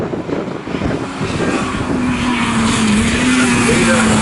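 Race cars lapping Snetterton circuit in a Classic VW Cup and Honda VTEC Challenge race, a loud sustained engine roar with a rising whine as cars pass close.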